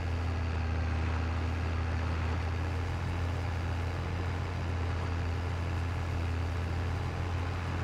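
A Fendt tractor on narrow tires driving in Farming Simulator 22, its engine giving a steady, continuous low drone with an even hum throughout and no change in pace.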